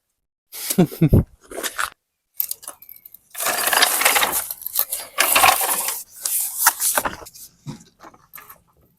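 A ratchet clicks in short, uneven bursts while loosening heat shield bolts under a 2014 Subaru WRX during a downpipe install, heard close with pauses between turns.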